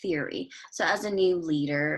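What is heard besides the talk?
No everyday noises stand out.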